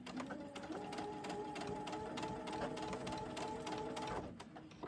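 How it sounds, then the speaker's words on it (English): A sewing machine runs steadily, its rapid mechanical stitching hum continuing for several seconds before slowing to a stop. "this sewing machine handles quite a bit of material that goes through it"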